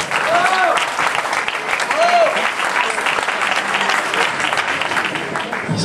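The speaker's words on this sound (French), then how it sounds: "Je demande d'applaudir monsieur Jean-Luc Larry, s'il vous plaît, alias monsieur Popek." Audience applause for a performer introduced on stage, steady dense clapping from a crowd filling the whole stretch at even loudness, with some indistinct voices and whistle-like calls mixed in.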